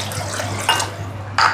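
Water pours from a vessel into a cooking pot while rice is being made, a steady splashing run with two brighter splashy bursts, close by and with no talk over it.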